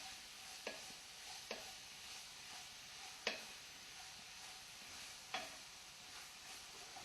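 Crawfish etouffee is stirred in a hot iron pot with a steady wet sizzle underneath, and a spoon knocks against the metal in a few sharp taps. The sound is close and quiet, and there is no talking.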